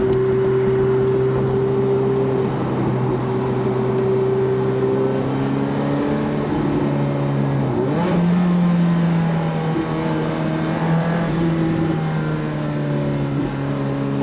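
A 2005 Ferrari F430 Spider engine drones steadily while driving, a close, sustained mid-pitched hum that dips and shifts pitch midway before settling into a smooth, even note.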